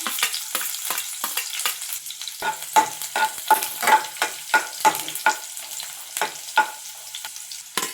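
Cumin, mustard seeds and green chilies crackle and sizzle in hot butter in a pan, with a steady stream of sharp popping and spattering bursts, close and fairly loud, and no talking.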